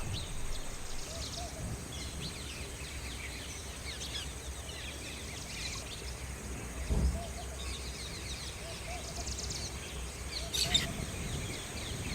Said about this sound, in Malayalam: മയിലും മാടത്തെയും മണ്ണാനും തത്തയും ഒക്കെ ഒരുമിച്ച് തീറ്റ തിന്നുകൊണ്ടിരിക്കുമ്പോൾ